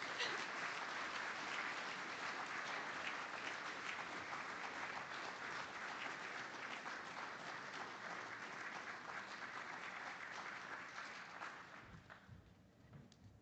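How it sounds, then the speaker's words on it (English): An audience at an evening meeting gives a round of applause, a dense, steady wash of many hands clapping that holds evenly for over ten seconds before thinning and fading out. "We can give him a round of applause."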